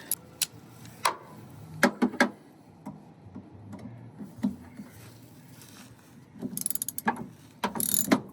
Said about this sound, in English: Now we're gonna use our socket.